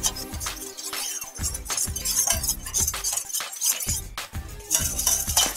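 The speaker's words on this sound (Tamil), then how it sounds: "இதை வந்துட்டு நல்லா மிக்ஸ் பண்ணி விட்டுருங்க, பாலோட நல்லா மிக்ஸ் ஆகிடும்" A spoon stirs soaked yeast into milk for naan dough, clinking and tapping repeatedly against the glass in irregular, close, fairly loud strokes.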